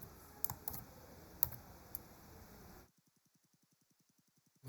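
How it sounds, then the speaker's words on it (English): Faint, sparse keystrokes on a computer keyboard, a few quiet clicks over low background hiss before the typing stops. "typing all the keys here"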